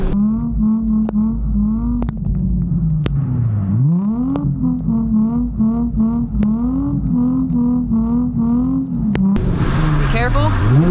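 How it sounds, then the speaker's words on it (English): A drift car's engine revs hard after a clutch kick in a roundabout. The loud rising and falling engine whine repeats as the revs climb, dip and climb again, with tire or gravel noise near the end and talk over it. "If I go through this roundabout, specifically kick the clutch like this"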